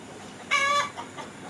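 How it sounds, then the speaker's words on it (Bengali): Tiger breed chickens cluck in a short burst of harmonic calls, close and fairly loud, followed by a softer cluck or two against quiet background. "দেখতেছেন টাইগার মুরগি।"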